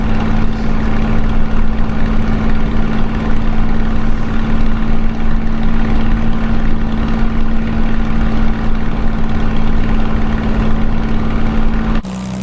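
Steady, loud drone of a WW2-era aircraft engine in flight over Shoreham Airport along the coast, heard from inside with the canopy open; a constant low hum runs unbroken throughout, dropping slightly at the very end.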